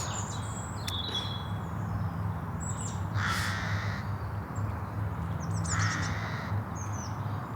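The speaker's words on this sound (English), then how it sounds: "just listening to the birds" Crows caw repeatedly in harsh bursts outdoors, fairly close and clear, over steady background noise with a few fainter bird chirps.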